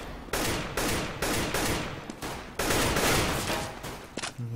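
Pistol gunfire from a P250 in the shooter CS:GO during a competitive match, a series of loud, broadband shot bursts in quick succession with brief gaps, ending in a short clipped impact.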